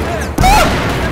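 Grenade blast in the Battlefield 4 game on the Operation Metro map, a loud sudden boom amid continuing gunfire and battle noise, with a voice briefly exclaiming over it.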